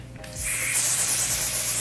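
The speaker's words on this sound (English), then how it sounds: "I just spray on my hairline with the black can first" A black aerosol spray can hisses onto a hairline during a closure wig install, one continuous close, loud spray burst starting after a brief quiet moment and holding steady to the end.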